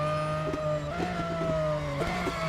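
Race cars in the mobile racing game Real Racing 3, a continuous engine drone with gear-shift steps in pitch, steady and fairly loud with no talk.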